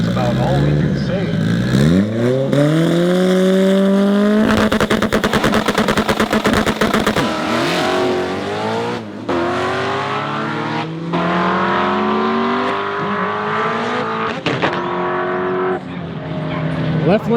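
Cars at a street drag race roar off the line, engines screaming up through the revs with rapid rattling bursts, tires chirping and loud exhaust, while people talk nearby.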